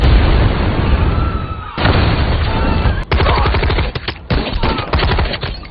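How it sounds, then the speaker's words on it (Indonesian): Terrorists firing guns indiscriminately near cafés around the Taj Mahal hotel: loud, dense bursts of automatic gunfire and rapid single shots, clipped and harsh, crackling almost without pause. "Mereka menembak membabi buta tanpa memilih korbannya"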